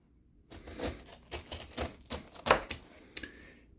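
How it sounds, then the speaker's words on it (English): A knife slices the sides off a pineapple in a series of close, crunchy, fibrous strokes, irregularly spaced, with a sharp tap near the end. "Next, I'm going to cut the sides off the pineapple."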